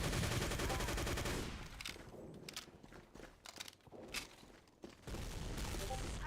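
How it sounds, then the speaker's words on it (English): Bursts of gunfire and grenade blasts crackle in dense volleys, then thin into scattered sharp reports before another heavy burst returns, with a faint voice underneath. "Got all kinds of grenades flying around"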